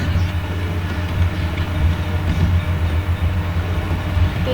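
A passing train in the video game GTA 5, a steady low rumble with a continuous rolling drone at a constant moderate level throughout, no voices present.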